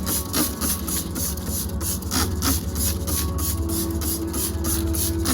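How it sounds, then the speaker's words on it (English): Continuous hissing spray of wheel cleaner onto a car wheel, with a broad, rough texture, steady and close throughout, over a low rumbling background. "So just spray it."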